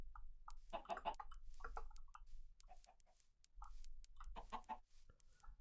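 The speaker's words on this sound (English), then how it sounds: "there's more chickens right here" Chickens in the Minecraft video game cluck in short repeated bursts, several overlapping and fairly close, alone without talk over a low steady hum.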